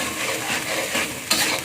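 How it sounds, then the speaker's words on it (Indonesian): Seasoned tempeh stir-fry with oyster sauce and pepper is stirred in a hot pan. A brief, close scraping of the utensil rides over a continuous loud sizzle, with no talk. "Kita aduk kembali."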